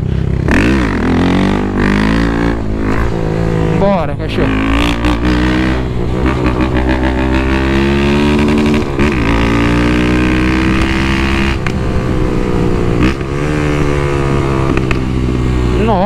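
A 2023 Honda CB300F Twister fitted with a Dore exhaust revs loudly up close, its engine climbing and falling through repeated throttle blips with crackling pops, while people talk briefly over it.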